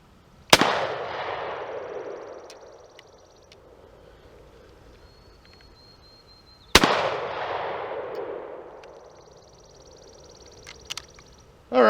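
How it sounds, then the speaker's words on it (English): Two shotgun blasts from old shotgun ammo being tested, each a sharp loud crack followed by a long rolling outdoor echo, spaced several seconds apart. "Let's shoot 2 more here."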